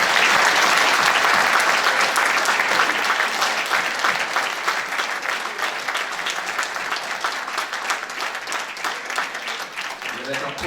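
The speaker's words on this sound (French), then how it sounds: "Je pense qu'on peut encore les applaudir." Audience applause for a saxophone band at a mayor's New Year address, a dense burst of clapping that starts loud and thins gradually over about ten seconds, with no voices over it.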